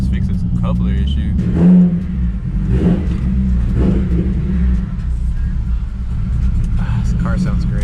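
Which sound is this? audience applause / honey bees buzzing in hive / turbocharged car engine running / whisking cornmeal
turbocharged car engine running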